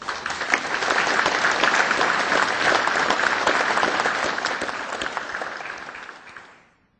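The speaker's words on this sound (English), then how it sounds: "let's give him another round of applause" A crowd at a Veterans Day observance gives a round of applause, steady dense clapping that holds evenly before fading out toward the end.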